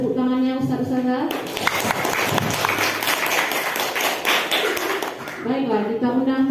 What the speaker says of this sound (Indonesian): Berikan tepuk tangannya Ustaz-Ustazah.